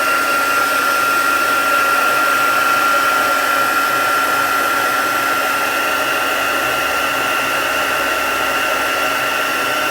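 A heat tool blowing hot air to set embossing powder, a loud, steady, close whirring hiss that runs unbroken throughout with no talk.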